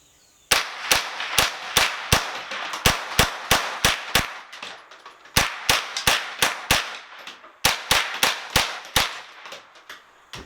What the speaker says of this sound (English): I'm going to go ahead and shoot the other 4 targets